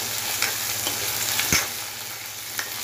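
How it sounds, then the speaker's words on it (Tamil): Small shallots, tomato and garlic sizzle and fry in a pan for a tamarind curry, a steady close crackle with a few soft stirring knocks over it. "நான் வெங்காயம் தக்காளி பூண்டு அரிஞ்சு வச்சுருக்கேன், அப்படியே போடுறேன்"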